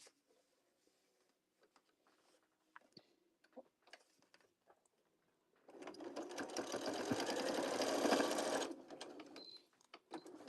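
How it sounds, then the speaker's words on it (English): Sewing machine stitching fabric to close a leaf on a strawberry pouch, a steady loud whirring run of about three seconds after quiet handling noises. "Taking this next one, folding it in, stitching here to close it up."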